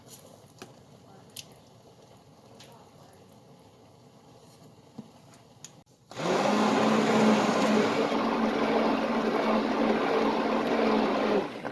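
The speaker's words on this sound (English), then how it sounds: "blend the crushed tomatoes, sauteed onions, garlic, and tomatoes for the pomodoro sauce" A blender purees crushed tomatoes, sauteed onions and garlic for pomodoro sauce, switching on abruptly after a quiet stretch into a loud, steady, close whirring roar that runs to the end.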